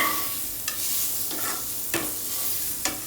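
Thinly sliced onions fry in hot tempering oil with a steady, close sizzle, broken by a few sharp stirring strokes against the pan.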